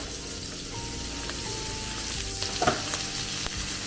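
Cabbage frying in a pan with hing and turmeric, a continuous close sizzle with occasional stirring knocks and a brief louder clatter near the end, no voices.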